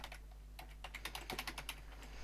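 A name being typed on a computer keyboard into a staff account form, a quick run of close, clicky keystrokes over a steady low electrical hum.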